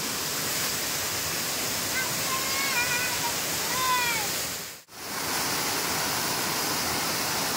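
A fast-flowing stream rushes with heavy, constant pressure, a loud broadband roar filling the whole stretch, with a brief dropout near the end before the roar resumes.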